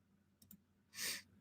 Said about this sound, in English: I'm going to click that link.